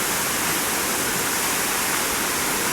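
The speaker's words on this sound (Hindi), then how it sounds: "बहुत तेज पानी का झरना है ये।" A powerful artificial waterfall on the Bhagirathi river near Harshil, Uttarkashi, roars nearby, a dense unbroken rush of crashing water filling the whole soundscape.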